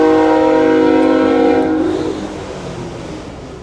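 Train horn blasting loudly from a train passing near downtown Greensboro: a powerful sustained chord for about two seconds, then cut off, leaving the rumble of the rolling train fading away.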